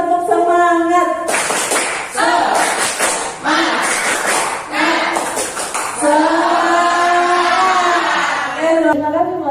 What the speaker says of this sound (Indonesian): Oke, kita coba ya. Kita tepuk semangat.